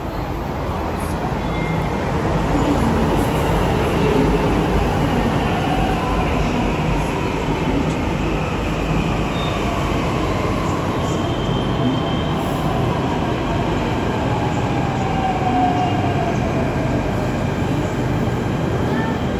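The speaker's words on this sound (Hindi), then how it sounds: "Delhi metro station." A Delhi Metro train at a metro station, heard from close by as a loud, steady rumble of wheels and carriages with faint wheel squeals running throughout, and no clear talk above it.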